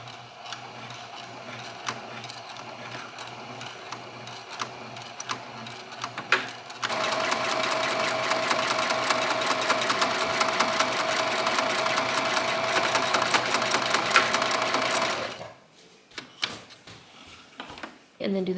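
A sewing machine stitches fabric for a bread bag in one steady run of rapid mechanical whirring, near and loud, starting after quieter handling noises and stopping abruptly near the end; speech is heard around it.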